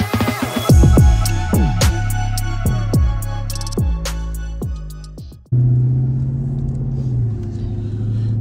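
A Dodge Hellcat's engine on the road, loud and close, with repeated rev rises and gear-change drops, then a steady low rumble while cruising.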